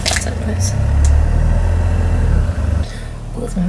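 A car engine rumbles low and steady at close range, rising slightly before fading as the vehicle pulls away, with light background rustling.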